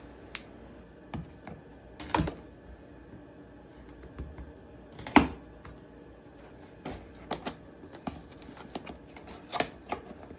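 Typing on a Tecware Spectre 75 mechanical keyboard with a 75% layout, sparse clacky keystrokes arriving in irregular bursts with quiet gaps between them.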